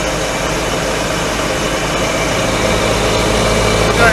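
A 1942 Dodge carryall's engine runs steadily on a road test, a loud, continuous low rumble with broadband road and wind noise that holds at an even level and swells slightly near the end, with no talk.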